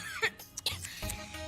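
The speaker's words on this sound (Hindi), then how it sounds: "अरे जब नजर लगता है तब ही ऐसी खांसी आती है" A person in a home coughs a couple of short, sharp times in quick succession, with voices and room sounds around the coughing.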